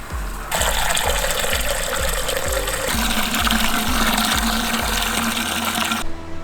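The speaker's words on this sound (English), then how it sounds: "we're going to fill our Robobrew up to the 20 litre mark" Water gushing steadily into a Robobrew brewing system being filled to the 20 litre mark for a chocolate vanilla porter, with a rhythmic pump-like thumping underneath that stops near the end.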